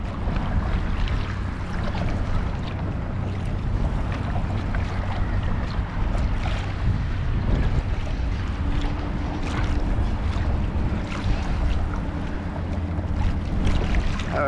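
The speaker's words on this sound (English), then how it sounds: "This breeze definitely picked up." Steady wind noise rushes over open water around a Hobie kayak on Back Bay, with a broad continuous roar and buffeting that sound close to the microphone and carry on throughout without talk.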